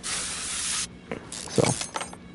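A spray can in Car Mechanic Simulator 2021 gives one steady, loud hiss of just under a second, followed by faint scattered clanks of Mopar car parts being worked on.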